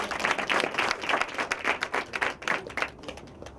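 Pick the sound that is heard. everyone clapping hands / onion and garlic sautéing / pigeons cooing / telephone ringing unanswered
everyone clapping hands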